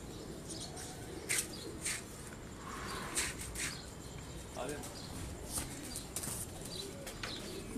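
Soft pigeon cooing on a rooftop mixed with scattered bird calls over a steady noisy background, with people talking nearby.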